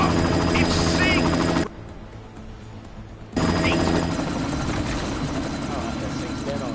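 Attack helicopter from the video game Deus Ex: Mankind Divided, a loud, steady rotor roar mixed with bursts of gunfire and shouting voices; it drops out briefly in the middle, then returns just as strong and continues to the end.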